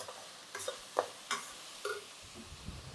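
Onions and garlic sauté in a pan for a white kurma, with a soft low sizzle and several light utensil clinks and scrapes as they are stirred, fairly quiet and close.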